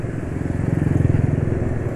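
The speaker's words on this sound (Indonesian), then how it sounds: "Suara mesin masih halus deh." A two-stroke motorcycle engine, run on cooking oil mixed into its two-stroke oil, idles nearby with a smooth, even, rapid pulsing beat.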